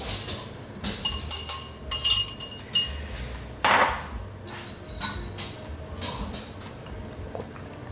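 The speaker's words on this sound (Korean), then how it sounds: "볼 끝까지 다 긁어주시고요." Batter being mixed in a bowl for a hummingbird cake, with repeated clinks and scrapes of a utensil against the bowl in an irregular rhythm, close and moderately loud.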